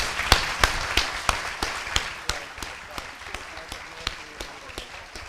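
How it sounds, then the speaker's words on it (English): Sparse audience applause follows a university festival panel: a steady run of evenly spaced, fairly distinct claps, moderately loud in a hall, continuing at an even rhythm for several seconds. "Let's give them a round of applause."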